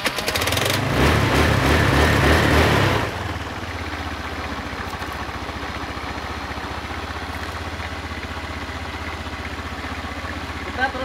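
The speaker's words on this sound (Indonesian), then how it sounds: "Motor saya hidupkan." Carbureted Honda Vario or Beat scooter engine idling up close, starting with a louder rougher burst for about three seconds, then settling into a steady, even putter.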